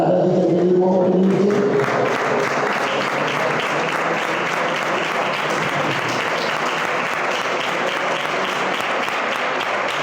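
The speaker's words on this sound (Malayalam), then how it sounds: "കൈയടിച്ച് സന്തോഷത്തോടെ ഹല്ലേലൂയ പറഞ്ഞ് ആരാധിക്കാൻ കഴിയുമോ?" Congregation at a Pentecostal church service applauds in worship, a dense, loud, sustained wash of many hands clapping, with brief speech at the start.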